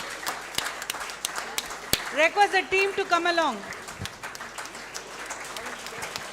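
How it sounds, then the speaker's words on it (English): Scattered applause for a best speaker award at a national moot court valedictory function, sparse claps in a hall while an announcer speaks over them on a microphone. "Sound applause, please."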